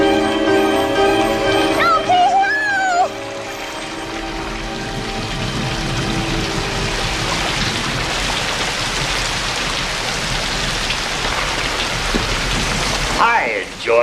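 Steady rain patters across a surface for the whole stretch, with faint talk and a few tonal sounds near the start.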